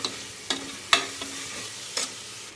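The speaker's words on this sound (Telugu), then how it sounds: "వీటన్నిటి బాగా మిక్స్ చేసుకోవాలి." Chilli powder, coriander powder and garam masala are stirred together in a frying pan over a low, steady sizzle. Several distinct scraping clinks of the spoon against the pan come at irregular intervals.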